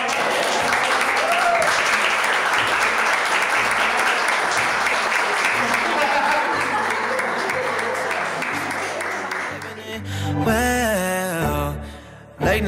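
Wedding guests at a civil marriage ceremony in Buenos Aires burst into sustained applause and cheering, which fades near the end as a voice and music take over.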